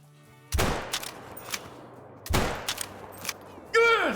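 A 10 gauge semi-automatic shotgun in the hunting game Call of the Wild at Layton Lakes, two loud separate booms about two seconds apart, each trailing off in a long rolling echo across open terrain, followed by a voice breaking in at the end.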